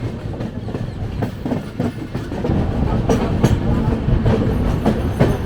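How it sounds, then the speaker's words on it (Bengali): The 12327 Upasana Express runs through Jharkhand with loud, continuous rumbling and rhythmic clickety-clack of wheels over rail joints, heard up close from on board. "ট্রেন এখন ছুটে চলেছে ঝাড়খণ্ড রাজ্যের মধ্যে দিয়ে"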